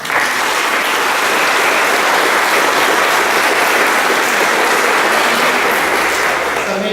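Loud, sustained applause from a church congregation welcoming altar servers during a Catholic Mass, dense and continuous clapping filling the space evenly for several seconds.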